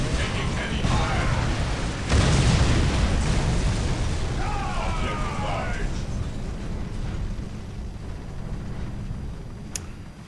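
Explosions and heavy battlefield fire in the Warhammer 40,000: Dawn of War strategy game, a continuous roaring wash of blasts with one heavier boom early on, while unit voices speak over the din.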